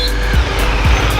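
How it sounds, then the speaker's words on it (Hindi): Road traffic at KR Puram, Bangalore, rumbles close by in a continuous loud engine drone, with a couple of brief thumps as vehicles pass. "यहाँ का ट्रैफिक कभी ख़त्म नहीं होता है।"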